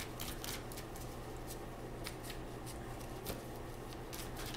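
Faint, steady papery shuffling of tarot cards, soft riffling flicks repeating over a low background hum.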